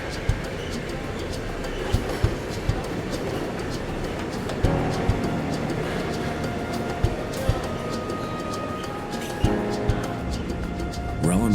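A passenger train travels on its route with a steady rolling rumble and faint, regularly spaced rail clicks, heard alone at moderate volume.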